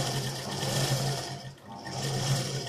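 A sewing machine runs steadily while stitching a salwar seam, with a whirring hum that dips briefly midway and then resumes.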